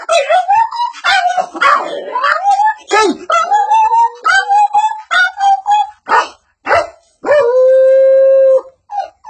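Dogs quarrelling over a meal of rice, loud close howls, yips and snarling barks in rapid overlapping bursts, ending in a drawn-out howl.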